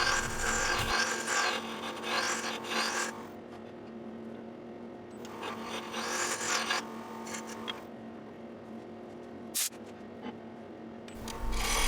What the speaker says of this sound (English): I'll use a small turning tool to turn the lip on the inside of the segmented assembly